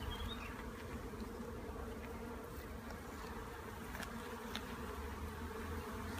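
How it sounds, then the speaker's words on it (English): Dense, steady buzzing of many bees swarming close around a hive in urban London, a constant droning hum with no voices. "so you can see lots of bees on there, all working. You can hear them buzzing around us"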